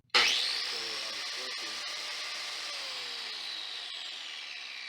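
An angle grinder fitted with a dust shroud starts with a sharp surge and then runs in a steady loud high whine that holds for several seconds at close range, with no talking.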